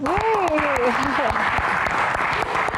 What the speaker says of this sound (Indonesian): tepuk tangan sekali lagi untuk Isyana Saraswati